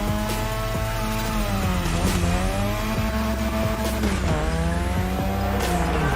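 A car drifting on a drift track in The Crew Motorfest video game, its engine revving and rising and falling in pitch under loud, sustained tire squeals that swell and sweep through repeated slides, close and continuous.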